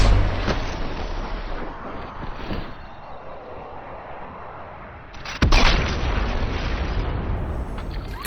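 A rocket explodes against a stormtrooper in Fortnite. A loud, rumbling boom opens the clip and fades slowly, then a second heavy blast hits about five seconds later. There is no talking.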